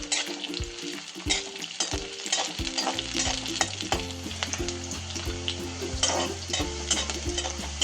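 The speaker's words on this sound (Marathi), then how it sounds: "मिरची तळली बघा चांगली." Finely chopped green chilies frying in hot oil for a dill leaf vegetable dish, a close continuous sizzle broken by repeated metallic spatula scrapes and clinks against the pan.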